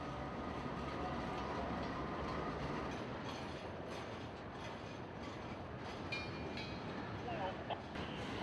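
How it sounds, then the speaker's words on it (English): CSX Q121, an all double-stack container freight train out of Chicago, rumbles past in a steady, loud broadband roar with faint metallic clicks and squeals toward the end. "Arriving from Chicago, Illinois is Q121, an all double-stack container train"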